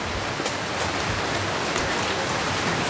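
Steady heavy rain falls outdoors at a stage dedication, a dense even hiss of drops on surfaces that continues unbroken throughout, with no speech.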